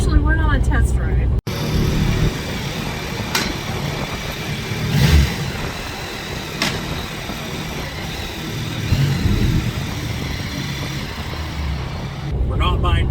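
A motorcycle engine on a test ride, a continuous loud mid-pitched drone with wind rush and a few swells in revs, running almost the whole way between brief bursts of talk at the start and end.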